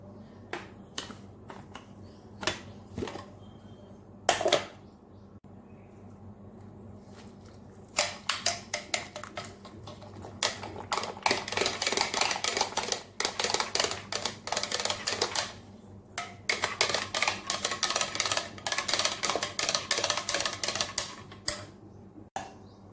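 Cooked dal being mashed for hotel-style sambar gives sharp, close clacks and taps. A few come singly at first, then they turn into dense rapid bursts of knocking, with short pauses between bursts and no talking.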